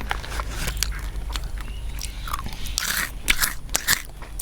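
Crisp crunching bites into puffy freeze-dried candy, a series of sharp cracks and crackles up close, with chewing between the bites and no talking.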